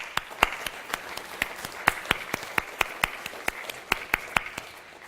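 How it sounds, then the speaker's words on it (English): Sparse, distinct hand claps from a small conference audience at Toorcon 2007, a hacker security gathering, applauding event sponsor WebSense; sharp irregular claps, fairly close and moderately loud, fading slightly toward the end, with no voices. "Let's give them another round of applause for that"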